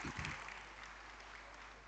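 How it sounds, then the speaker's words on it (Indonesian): A crowd claps at an inauguration ceremony for Srikandi Jaga Desa officials, with quiet, distant, sustained applause that fades slightly over a couple of seconds. "Semua kita tepuk tangan untuk Ibu Srikandi."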